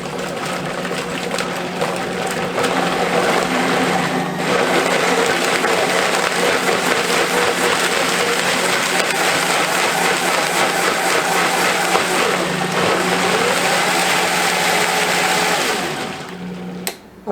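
An electric blender whizzes tomatillo taco sauce made with oil and salt, a loud steady whirring drone running without break for about sixteen seconds before cutting off.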